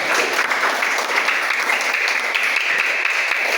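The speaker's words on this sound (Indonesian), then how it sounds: "Beri tepuk tangan untuk kelompok harimau." Classroom applause from a group of students clapping together for a team, a dense, steady wash of many hands that stays loud and continuous with no talk over it.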